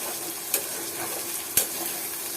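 A spice paste of blended almonds, cashews and pistachios is stir-fried in a pan, a continuous sizzle broken by two sharp scraping clacks of the spatula about a second apart.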